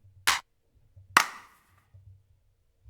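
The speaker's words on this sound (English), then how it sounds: "I'm looking for some clap loops" Two crisp, isolated claps from a sampled clap loop auditioned in Ableton, each a sharp slap with a short decay, spaced about a second apart over a faint low hum.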